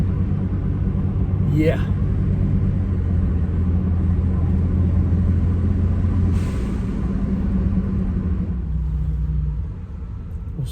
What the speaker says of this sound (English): Let's listen to my blow-off valve.